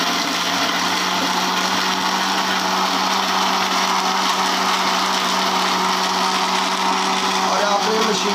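A countertop blender whirs steadily and loudly, crushing ice into peach juice in one continuous high-pitched drone.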